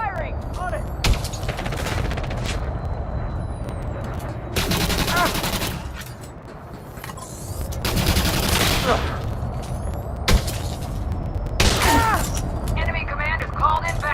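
Bursts of gunfire in the space game Elite Dangerous: Odyssey, several loud volleys of rapid shots coming in clusters through a fight, with voices talking in between.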